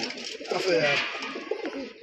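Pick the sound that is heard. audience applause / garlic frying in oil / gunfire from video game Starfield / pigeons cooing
pigeons cooing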